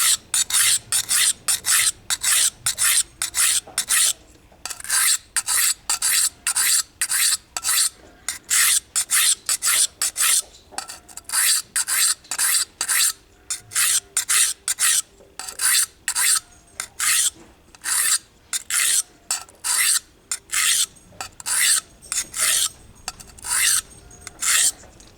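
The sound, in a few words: sharpening a blade on a diamond stone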